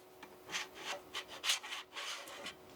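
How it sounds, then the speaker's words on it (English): A scraper scrapes leftover filament off the build plate of a Creality Ender-3 V3 SE 3D printer. It makes a quick series of short, close, fairly quiet scratching strokes, about eight in under three seconds. "it scrapes off the filament from the build plate"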